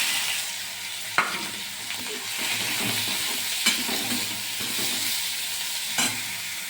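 Onions frying in a pan with chillies for a karela dish, a steady close sizzle broken by a few sharp clinks of a stirring spoon against the pan.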